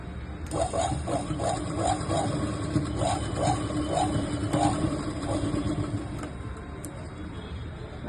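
A sewing machine stitches a simple blouse, running in short rhythmic bursts of rapid mechanical chatter over a steady motor hum, close and fairly loud with no talking.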